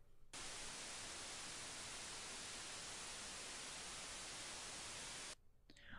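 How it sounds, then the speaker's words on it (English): Loud, steady electronic static hiss fills nearly the whole span, starting abruptly and cutting off near the end, evoking an auditory hallucination during sleep paralysis. "The air fills with the pulse of electronic static,"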